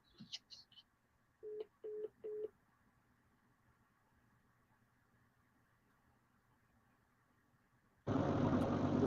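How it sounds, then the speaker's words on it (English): A studio telephone dials out with three short, evenly spaced tones after a couple of brief higher beeps, then falls quiet before a loud burst of harsh static as the line fails to connect. "My personal phone's trying to connect, but the studio phone won't connect."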